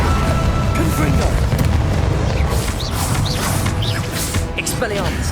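Hogwarts Legacy Confringo spell bursts in combat as heavy booms and crashing impacts, loud and continuous, layered with shouted voices and chirpy magical effects throughout.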